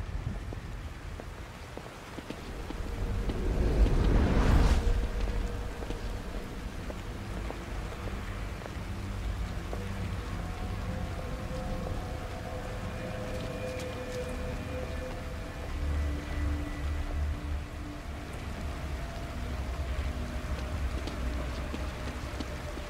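Steady rain falls in the horror video game The Evil Within, a continuous wash of drops with a brief louder rumbling swell early on, then an even patter with faint low tones underneath.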